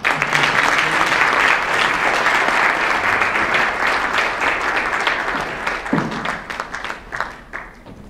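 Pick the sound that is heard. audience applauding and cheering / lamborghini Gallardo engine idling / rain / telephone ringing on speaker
audience applauding and cheering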